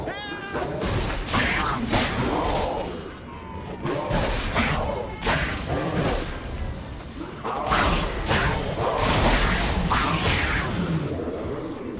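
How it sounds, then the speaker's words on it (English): Demon cats attack in the Witcher 3: Blood and Wine video game, a dense, loud fight with yowling, hissing cat cries, sword swishes and impacts layered continuously throughout. "Demon cats!"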